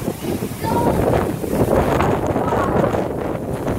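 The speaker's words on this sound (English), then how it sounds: "It's the Arizona dust storm." Strong wind from an Arizona dust storm buffets the microphone in loud, rough gusts that last the whole few seconds, and a person talks over it.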